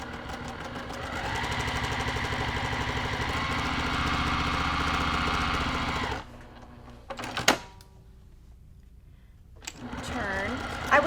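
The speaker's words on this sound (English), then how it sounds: "to the sewing machine and we're going to stitch directly on these lines" A sewing machine stitches a small scrap of quilting fabric along marked lines for half square triangle blocks, a loud steady whirring run for about six seconds, then a pause with clicks before the motor starts again.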